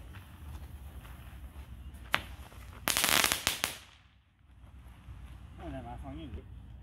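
Fourth of July fireworks go off nearby. A few sharp pops come first, then a dense crackling burst of firecrackers that fades away. Quieter outdoor sounds and voices follow.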